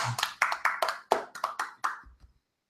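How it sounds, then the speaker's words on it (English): Applause for a wrestler in an interview setting, a short burst of close, crisp hand claps from a small group that quickly thins out and stops within about two seconds. "let's give him an applause to Donovan Dijak"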